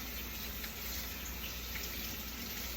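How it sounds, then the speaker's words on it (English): Tap water runs steadily from a faucet into a sink, rinsing an old steel spatula during kitchen cleanup before cooking fried rice; a constant soft hiss with no talk. "The old spatula. Steel one. It's just about clean. Alright, gonna rinse that off."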